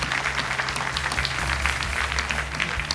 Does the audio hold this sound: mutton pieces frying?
no